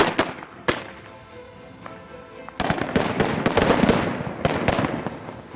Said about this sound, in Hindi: Now stun shell electric single shot fire, fire for effect, fire.